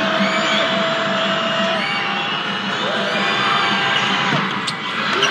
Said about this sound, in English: This DePaul crowd letting them hear it on the free throw attempt.